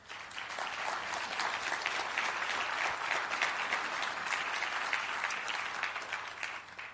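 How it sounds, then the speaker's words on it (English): Conference audience breaks into steady, dense applause that fills the room evenly, many hands clapping together for several seconds with no voices standing out, tapering slightly at the end. "Please give all of these folks a round of applause"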